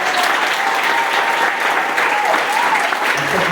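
A church congregation claps loudly and continuously, a dense, close rattle of many hands with a few voices calling out over it.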